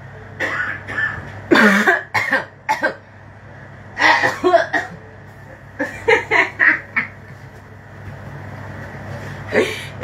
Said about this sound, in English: Let me cough too.